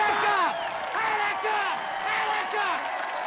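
Crowd cheering in the 1975 film Dog Day Afternoon, many voices whooping and shouting in repeated swells, moderately loud and steady, with a voice shouting over them.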